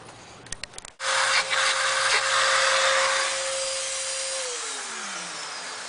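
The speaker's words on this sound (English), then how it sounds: "So we've taken the spark plug out, and I've just vacuumed the hole out." A vacuum cleaner clearing out the spark plug hole of a Volvo S60 engine, starting with a few clicks and then a loud steady whine and rush that drops slightly in pitch toward the end.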